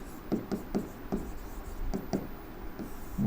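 Handwriting during an engineering lecture on calculating float in PERT/CPM gives short, scratchy strokes in irregular clusters, close and moderately loud, with no speech over them.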